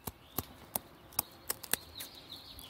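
Scissors snip through a chicken's flight feathers in a quick series of sharp, faint clicks, about seven crisp cuts over a few seconds against a quiet background.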